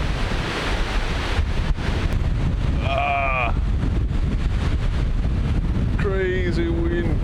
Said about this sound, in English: It is crazy windy here.